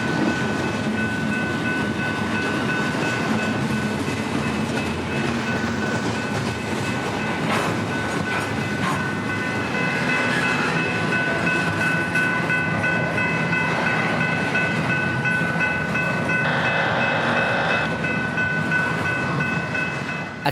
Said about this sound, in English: 28J brings his long string of containers into the yard